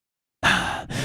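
Breathing comes through a video call that is breaking up, a sudden close, breathy exhale like a sigh that begins abruptly after silence and is briefly cut by a dropout.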